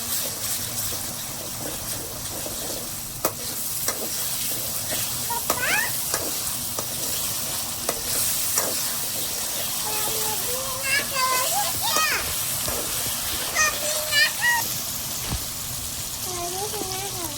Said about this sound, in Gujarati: આપણે હવે નાખી દઈએ આમાં ટમેટા લીલા મરચાં